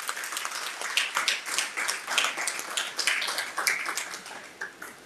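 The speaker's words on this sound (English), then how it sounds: "he deserves a round of applause" An audience at a graduation ceremony claps steadily, crisp individual claps blending into a continuous round of applause at moderate distance.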